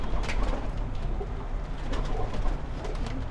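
Flock of pigeons belonging to Afzal Bhai of Mumbra, Mumbai, cooing steadily and close by, a dense overlapping murmur with no talk.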